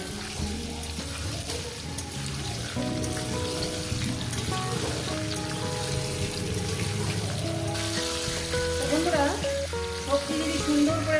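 Pumpkin, potato and pointed gourd frying in a pan, giving a continuous dense sizzle and crackle like steady rain, with occasional faint stirring sounds and a low background hum throughout.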